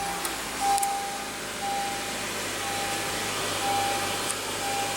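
A 2015 Honda Accord's 2.4-liter four-cylinder engine idles, humming evenly with a faint whine on top, constant and unbroken for several seconds, with no talking.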